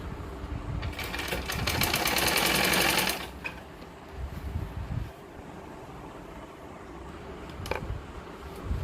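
Electric sewing machine stitching the lining of a blouse, running in loud steady bursts at close range with short pauses between runs of stitching.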